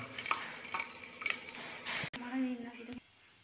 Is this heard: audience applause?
no